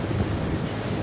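Sea waves surge and wash around an offshore construction site, a loud, dense churning roar mixed with wind buffeting the microphone, continuous with no voices.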